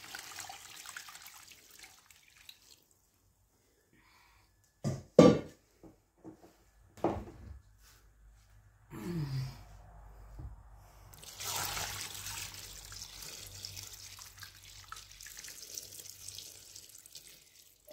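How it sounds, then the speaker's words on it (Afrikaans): Water poured and splashing into a bucket of orange wine must, a few brief gurgling bursts followed by a steadier trickling pour that runs on to the end, close by, no talk. "om die bakket vol te maak, gaan ek nog water bygooi"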